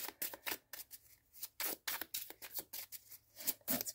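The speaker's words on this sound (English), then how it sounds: "Fairly easy to shuffle." A tarot card deck is shuffled by hand, producing a rapid series of crisp riffling bursts and flicks, close up with no talking.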